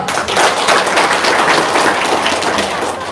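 An audience claps their hands in a dense, steady wash of applause that stays loud and even for about three seconds.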